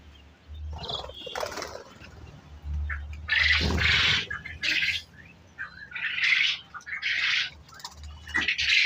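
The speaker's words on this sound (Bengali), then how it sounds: "এগুলো জাপানি কোয়েল পাখি।" Japanese quail chicks chirp in repeated bright, rapid bursts close by, over a low steady hum.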